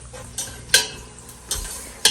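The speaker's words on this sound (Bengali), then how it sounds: "এই তো এখানে আমি পেঁয়াজ অয়েলের মধ্যে বেশি করে পেঁয়াজ কুচি দিয়ে দিচ্ছি" Chopped onions hitting hot oil in a home kitchen, a steady low sizzle with several sharp stirring or scraping bursts spaced through the clip, near and moderately loud.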